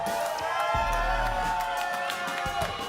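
Brazilian home crowd at a Valorant esports grand final cheering and whooping, a loud, continuous wash of arena noise with rising shouts, while a commentator talks over it.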